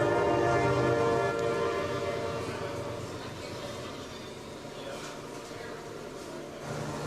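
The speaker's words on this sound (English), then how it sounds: "That would be the iconic train going by again" A train rumbles past at a moderate distance, a broad sustained roar that swells early and then slowly eases, with faint tonal horn-like strains woven through.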